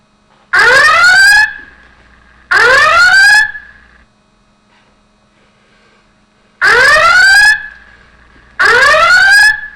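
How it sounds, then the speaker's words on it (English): EntraPass door-forced-open alarm sounds from a computer, a loud synthetic rising whoop that repeats in pairs with short silences between, and it keeps cycling until acknowledged. "Until we acknowledge the alarm, it will always keep on sounding."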